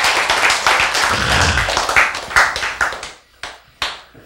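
Audience clapping during a talk, a dense burst of close, sharp hand claps that thins into a few separate slaps spaced out toward the end.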